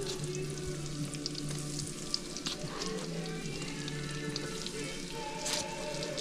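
Catfish fries in a pan with a continuous, close crackling sizzle. A low hum sits underneath and the frying holds steady throughout.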